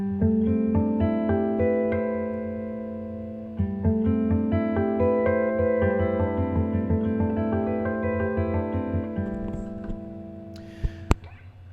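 Jazz guitar ringing out artificial harp harmonics: a cascade of bell-like chord tones plucked in a steady sequence, notes sustaining and overlapping, clear and close, with a couple of sharp clicks near the end and no talk.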